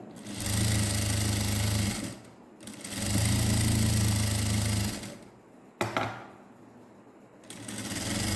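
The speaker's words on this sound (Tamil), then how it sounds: "மேலே வச்சுட்டு திருப்பி உள்ள மடிக்க அடிக்கிறேன்" Sewing machine stitching along the folded edge of a net-neck blouse, running in two steady bursts of about two seconds each with a pause between, then quieter handling and a sharp click before the motor starts again. No one talks.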